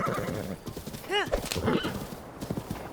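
Horse whinny from bokoblin riders in The Legend of Zelda: Breath of the Wild, a single rising-falling neigh mid-clip amid hoofbeats and game noise, with a voice talking over it.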